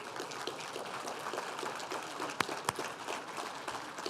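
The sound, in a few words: applause for a performer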